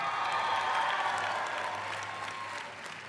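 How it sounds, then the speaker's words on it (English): Sustained applause from a large audience honoring award winners at a business school MBA commencement ceremony, steady and dense, easing slightly toward the end. "please join me in applauding the 2019 Student and Leadership Award winners"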